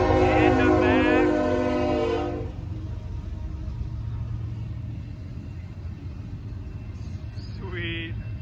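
Freight train M332 rolls by with a loud multi-note horn blast at the start, then a heavy continuous rumble of rail cars, and a second short horn call near the end.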